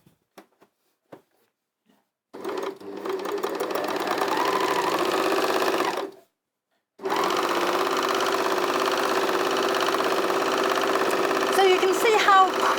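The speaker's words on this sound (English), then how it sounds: "You can hear the speed of that machine as it's actually sewing." A sewing machine stitching at speed, heard up close and loud: a fast, steady mechanical hum and clatter that starts after a few faint clicks, halts briefly, then runs on again.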